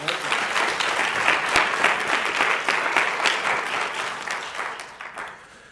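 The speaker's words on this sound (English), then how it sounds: "I'd ask that you applaud them" Audience at a pre-law Hall of Fame ceremony applauding the honorees, sustained dense clapping from a large room that holds steady for several seconds, then gradually thins and fades.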